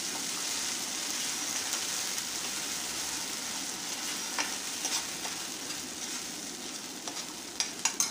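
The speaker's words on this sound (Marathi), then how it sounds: "या वाटणाला छान असं तेल सुटेपर्यंत मंद आचेवर साधारणतः 3 ते 4 मिनटं हा मसाला जो आहे छान असा परतून घेऊया" Ground masala paste sautéing in oil on a low flame gives a steady, even hiss throughout, with a few light utensil taps near the end.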